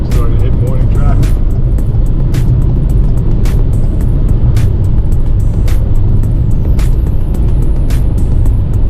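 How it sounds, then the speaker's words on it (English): Car driving on a highway into the Denver area in morning traffic, a steady loud low road and engine rumble with faint passing-vehicle swells throughout. "Starting to hit morning traffic."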